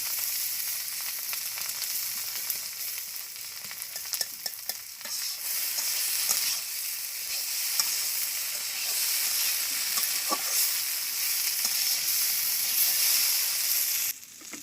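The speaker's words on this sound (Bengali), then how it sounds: "তো আমার পেঁয়াজটা ভাজি ভাজি হয়ে গেছে, এখন মিশাই দেবো।" Onions frying in a pan in a village kitchen, stirred throughout: a steady, close sizzle with light scraping from the spoon that continues unbroken to the end.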